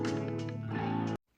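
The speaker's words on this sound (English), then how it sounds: "fifth part is the electric piano, which has actually only 2 parts where it actually does anything" Electric piano mixed into a song cover, with a busy, dense full-band passage playing steadily at moderate level before cutting off abruptly.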